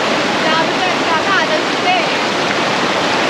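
The Ganges rushes loudly past at Rishikesh, a dense, continuous roar of river water that fills the whole moment without pause.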